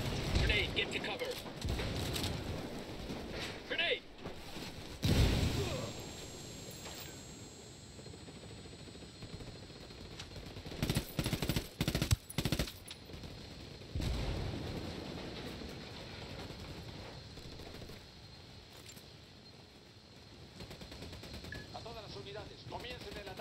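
Gunfire erupts during a firefight in Ghost Recon Wildlands, with loud bursts of automatic rifle fire and sharp shots in clusters, heavy blasts among them, while voices talk and shout over the battle.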